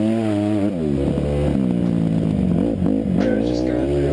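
A dirt bike engine drones and revs with a fluctuating pitch while someone rides it on a rainy day through mud puddles. A voice also talks over the engine.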